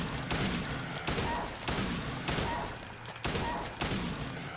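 Gunshots in the video game Silent Hill 2: four evenly spaced, fairly quiet bangs with a roughly one-second gap between them, set against a dim, noisy game background.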